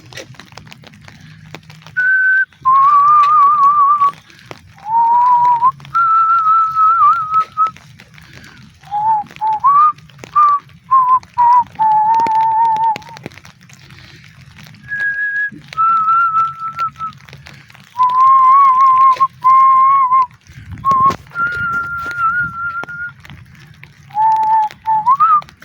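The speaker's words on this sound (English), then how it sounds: "Actually, I was whistling that in the street, like very loudly." A person whistles a tune loudly outdoors, a clear melodic line of short held notes and phrases with brief pauses, alone without talk.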